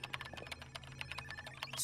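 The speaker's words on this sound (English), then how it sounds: "Will somebody please answer that annoying phone?" An old-style telephone bell rings in a cartoon scene, a fast, rattling trill of repeated strikes at moderate volume that keeps going without a pause.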